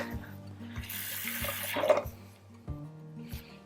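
Hot water runs from a kitchen tap, a steady close rushing stream that swells and then stops, over a faint low hum.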